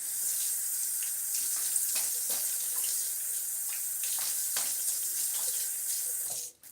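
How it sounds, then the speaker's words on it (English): Water running steadily from a tap into a sink to rinse during a wet shave, a constant close hiss with small splashes that cuts off at the very end. "Let's get a little rinse."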